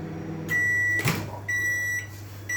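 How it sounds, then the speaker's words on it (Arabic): A microwave oven hums steadily while heating a mug of milk, with a continuous low drone and a thin high tone, a brief clunk partway through, then the hum resumes close by with no talk. "انا بسخن في الميكرويف دقيقة و20 ثانية، ماشي، ونستنى لحد ما تسخن"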